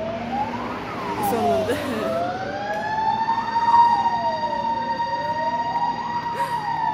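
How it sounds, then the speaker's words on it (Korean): An ambulance siren wails outdoors in a steady, repeating rise and fall, loud and fairly near, with a rumble of traffic under it. A voice speaks briefly over it. "아 지금 구급차가 사이렌 소리"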